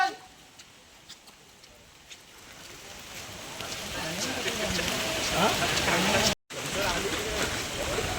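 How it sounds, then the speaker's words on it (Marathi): Light drizzling rain falls at a village gathering in rural Konkan, a soft, steady patter that grows slightly denser over the stretch, with a brief dropout near the end and no clear talk. "पाऊस पण बारीक बारीक आहे बघा"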